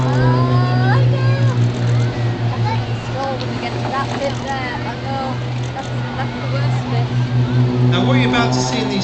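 Aerobatic display aircraft engines drone over the Saltburn air show, a steady propeller hum with shifting pitch sweeps as the planes maneuver, heard under an amplified commentator's voice talking throughout.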